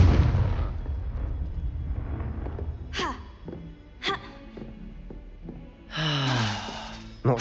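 Confringo fire spell in the Hogwarts Legacy video game: a loud rumbling blast at the start, then several sharp bursts and crackling impacts, ending in another heavy explosion, with game sound effects throughout.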